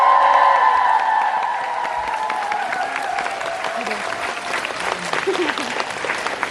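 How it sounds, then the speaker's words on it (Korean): Concert crowd of fans applauding for a singer, a steady, loud wash of clapping sustained throughout, with a voice and lingering music tones underneath. "도와주신 팬분들 다시 한번큰 박수 부탁드리겠습니다"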